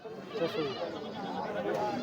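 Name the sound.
goat bleating at a goat market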